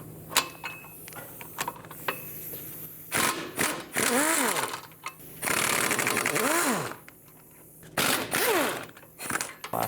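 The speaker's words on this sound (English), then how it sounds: "remove the 4 14mm bolts that hold this hub in" Power tool whirrs in rising and falling bursts removing four 14mm hub bolts from the rear of a 1997-2001 Lexus ES300, with ratcheting clicks and metallic clinks between runs, close and loud.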